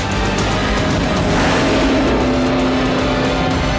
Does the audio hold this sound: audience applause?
no